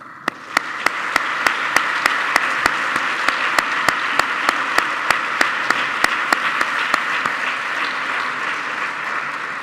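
An audience applauds at an Erasmus programme 30th anniversary award ceremony: a full, steady round of clapping from a crowded hall, with one distinct clapper beating out a regular, evenly spaced rhythm above the rest.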